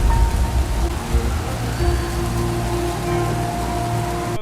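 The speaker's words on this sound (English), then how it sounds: "the sound of the ever-present soothing sound of rain makes this game very memorable" Steady rain in the video game Amedama patters on a surface, a soft continuous hiss with low tonal hum beneath it.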